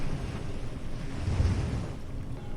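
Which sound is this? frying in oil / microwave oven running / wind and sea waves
wind and sea waves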